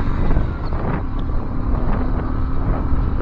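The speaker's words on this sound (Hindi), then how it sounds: "क्या खतरनाक हवा आ रही है, मतलब बाइक भी एक साइड को मतलब ऐसा झुक रही है" Strong wind buffets the microphone while a motorbike is ridden along a mountain ghat road, producing a constant loud roar and rumble with no break.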